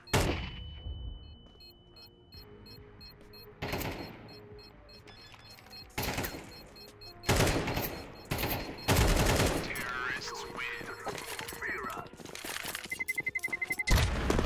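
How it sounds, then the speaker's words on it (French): A flashbang and gunfire in a tactical shooter video game: sharp, loud bangs and bursts of shots spread across a long stretch, with a ringing tone and quieter game sounds between them. "Flashbang out."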